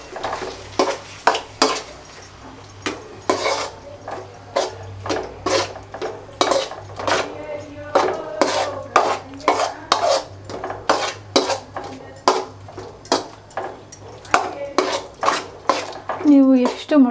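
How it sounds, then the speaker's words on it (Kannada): Steady, rhythmic scraping and clanking of a spatula stirring egg rice in a pan, close and continuous with a faint sizzle beneath and a voice talking over it. "ಇದನ್ನೀಗ ತಳ ಹತ್ತದಿಲ್ದಂಗೆ ಚೆನ್ನಾಗಿ ಮಿಕ್ಸ್ ಮಾಡ್ಕೊಳ್ಳಿ"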